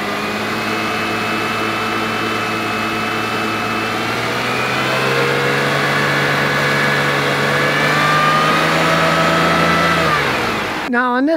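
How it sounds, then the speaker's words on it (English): A car engine with the air conditioning running idles steadily and is then revved, its hum climbing and holding before dropping back near the end, close and loud. "but we're gonna rev it up"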